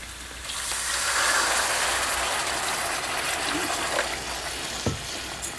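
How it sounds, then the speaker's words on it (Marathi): A steady stream of water pours into a pan of sautéed black-eyed peas for several seconds, building to a broad rushing hiss, followed by a couple of light knocks. "आता आपण ह्यामध्ये घालूया पाणी"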